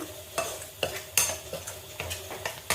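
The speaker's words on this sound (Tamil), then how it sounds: "நல்லா ஒரு 30 செகண்ட்ஸ் நீங்கள் சாட்டே பண்ணணும்" Sambar powder and peas sauté in a pan, with a soft sizzle under repeated scraping strokes of a spoon against the metal, arriving in an uneven rhythm close by.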